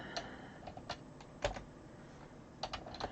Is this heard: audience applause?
no